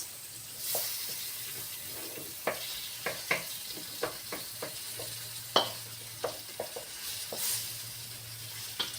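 Tomatoes frying in a pan in a home kitchen, giving a steady soft sizzle with repeated sharp clicks and scrapes of stirring, close and moderately quiet, with no talking.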